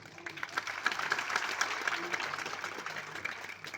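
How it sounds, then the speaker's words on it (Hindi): A crowd at an indoor stage gathering claps steadily in the background while a voice talks over the applause. "देखो जोरदार ताली बजाओ सब लोगों के लिए"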